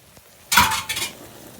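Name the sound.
mixing ground meat with A1 steak sauce and ketchup in a pan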